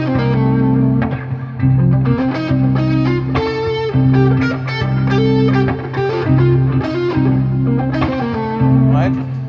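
Electric guitar with a distorted, effects-heavy tone runs up and down a pentatonic scale with an added Dorian note in quick successive notes over a sustained low drone.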